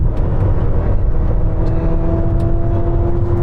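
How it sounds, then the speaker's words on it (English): A Ferrari SF90 rolls on from 50 mph in third gear, its engine note loud and close, a steady powerful roar with a rising whine as it pulls hard. "Roll on from 50, third gear."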